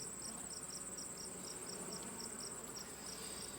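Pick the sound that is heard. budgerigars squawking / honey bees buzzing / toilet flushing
honey bees buzzing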